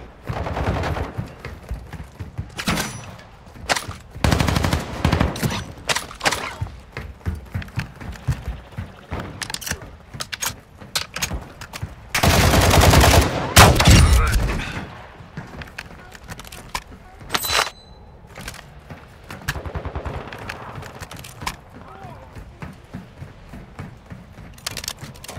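Gunfire in Call of Duty DMZ, repeated bursts of automatic and single shots at varying distances, with a heavy loud volley in the middle, while voices talk now and then.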